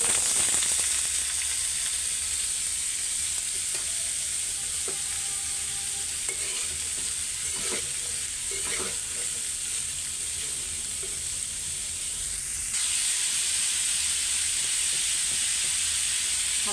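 Potato bhaji frying in hot oil, a loud steady sizzle and hiss running throughout with faint stirring taps in the middle and a brief surge near the end, close and with no talk.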